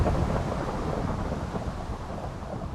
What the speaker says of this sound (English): It always rains. Always.